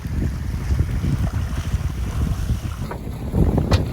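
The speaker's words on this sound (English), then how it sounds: "That is the catamaran Pepper. Beautiful boat." A catamaran sails at sea off Thailand toward Ko He, with steady wind buffeting the microphone and a continuous rush of water and hull noise close by. Nobody speaks.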